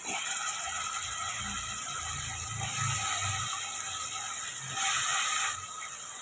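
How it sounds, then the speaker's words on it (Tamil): Cut brinjal sautéing with salt in a pan over tomatoes that were fried earlier, for a South Indian kuzhambu. A steady close hiss continues throughout and swells twice, with faint low clatter underneath and no voices. "கத்திரிக்காய்க்கு தேவையான உப்பு சேர்த்து நம்ம வதக்கி விட்டுக்கலாம்"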